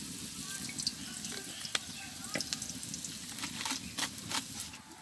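Oil sizzles steadily in a pan while dal is cooked with fried onion, turmeric and dried chillies in a village kitchen, a constant hiss with scattered crackles and pops close by.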